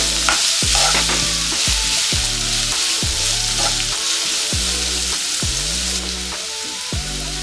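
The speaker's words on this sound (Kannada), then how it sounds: "ತರಕಾರಿ ಏನು ತುಂಬ ಫ್ರೈ ಮಾಡೋ ಅವಶ್ಯಕತೆ ಇಲ್ಲ" Chopped vegetables frying in a pan for curd upma, a loud steady sizzle broken by regular scraping strokes of a spatula stirring, close up with no talking.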